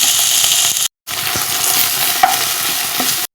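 Onion paste and ginger paste frying for katla fish rezala, a loud close continuous sizzle with stirring scrapes, briefly cut by a silent gap before resuming.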